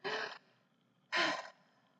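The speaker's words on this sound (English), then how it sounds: "Let me take a deep breath." Two deep, breathy inhale-and-exhale bursts from one person, close and fairly soft, separated by a short pause of near silence.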